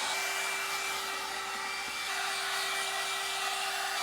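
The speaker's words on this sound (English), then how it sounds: "I also use our Jackery to power my hairdryer too." A hair dryer running off a Jackery portable power station blows in a steady, loud whooshing drone with a constant motor whine, unchanging from start to finish with no talk.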